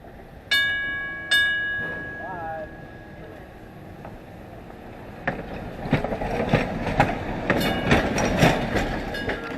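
West Penn Railway trolley car 832, built in 1929 by the Cincinnati Car Company, arriving at the Pennsylvania Trolley Museum, opening with two sharp bell or gong strikes and then a rising rumble with clicking wheels and squeals as it draws near.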